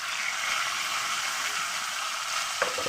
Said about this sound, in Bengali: এবার এটাকেও আমি ভালো করে ভেজে দেবো